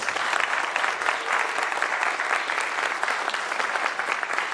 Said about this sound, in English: Round of applause for all the inductees.